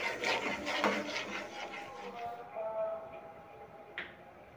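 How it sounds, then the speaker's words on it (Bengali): Carrot halwa with sugar is stirred in a pan, a spoon scraping and rubbing in soft repeated strokes, faint and close, ending in a brief sharp tap. "এইভাবে নাড়তে থাকতে হবে যতক্ষণ না চিনিটা গলে যায়।"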